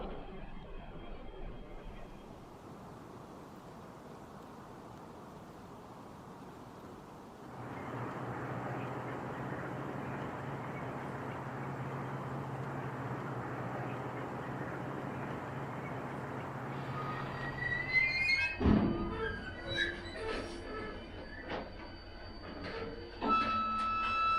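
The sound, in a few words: train with diesel and electric locomotives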